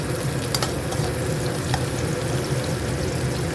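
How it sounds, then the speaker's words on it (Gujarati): Onions and mixed vegetables roast in a pan over a very low flame with a close, steady sizzle and faint stirring scrapes throughout, and no voices. "આપણે બધું જ વેજીટેબલ એકદમ ધીમી આંચે શેકવાનું છે"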